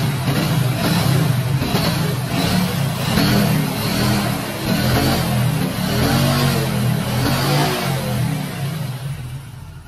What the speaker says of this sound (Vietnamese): Máy ấm, đang nổ canh tì luôn.